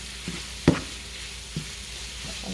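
Ground beef fries in a pan with a quiet steady sizzle, broken by a few sharp scrapes and taps of a utensil stirring it, no voices.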